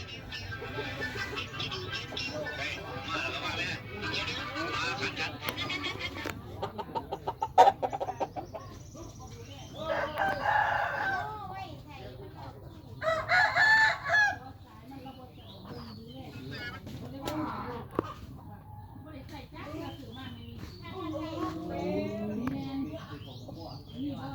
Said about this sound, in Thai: ไก่บ้านพี่เขาซื้อมาจากชลบุรีนะครับ